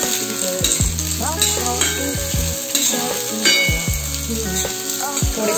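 Garlic, green chilies and chopped onion fry in hot oil in a pan for paneer chilli, a continuous close sizzle with frequent scraping and clinking as a spoon stirs them around.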